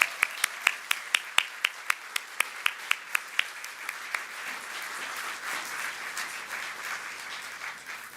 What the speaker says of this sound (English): Everyone, please join me in giving a round of applause to our 2023 Volunteer of the Year, Sam Mackey.